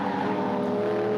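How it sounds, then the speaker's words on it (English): A later-model BMW M3 E92 race car's V8 engine bellows steadily at a circuit race meeting at Hampton Downs, a continuous loud mechanical drone heard alone without any talk. "You can hear the bellowing V8 there in the background."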